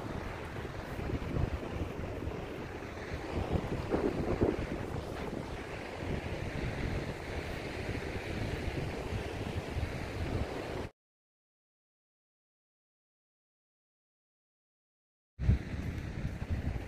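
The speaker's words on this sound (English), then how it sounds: "the waves is very hard" Ocean surf and gusting wind roll continuously along a foggy coastal trail at Torrey Pines, with strong wind buffeting the microphone; the sound cuts out to silence partway through before returning.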